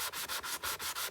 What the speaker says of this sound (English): And this is just those sanding blocks like you get at Home Depot or Lowe's